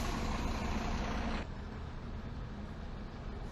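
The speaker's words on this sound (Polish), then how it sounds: "tu ciężarówka diesluje" Diesel truck engine running nearby, a steady low rumble with broadband noise that drops abruptly to a softer, continuous idle partway through, with no talk.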